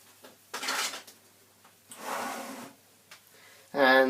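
A whisk is set down and a spatula picked up in a kitchen, with a few soft clattering and rubbing handling sounds and a sharper metallic clink at the end, quiet overall.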